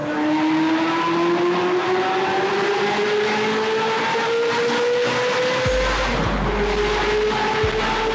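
A Ferrari F355 engine revs loudly and climbs in pitch, echoing in a tunnel, then roars deeper as it passes close by.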